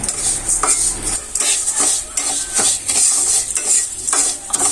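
Mung dal frying in oil in a pan, with repeated metal spatula scrapes and stirring clatter over a continuous bright sizzle, close and loud, no talking.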